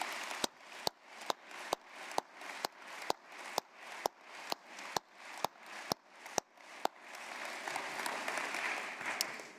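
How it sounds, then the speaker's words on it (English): An award ceremony audience applauds. About fifteen sharp, evenly spaced claps ring out close by, with a softer crowd patter beneath them, then the sound settles into steady, quieter applause. "Please join me in giving them a round of applause."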